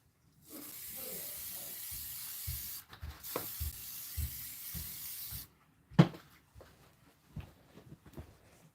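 Aerosol can sprayed inside a spray tent: two long, close hissing bursts of a few seconds each, followed by a few faint taps and handling clicks.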